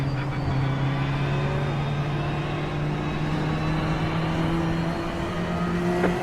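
Ferrari GT3 race cars accelerate off the start at Watkins Glen in the iRacing sim, a steady, loud, continuous engine drone with rising tones from several cars together and no voices.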